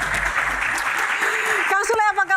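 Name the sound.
studio audience applause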